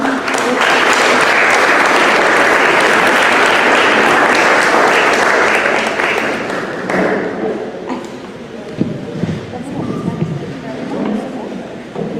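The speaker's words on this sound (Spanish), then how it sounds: "Un aplauso para Donají" A forum audience at a panel discussion on the Interoceanic Corridor applauds a speaker named Donají: loud, dense clapping for about seven seconds, then thinning and fading into quieter room noise with scattered taps.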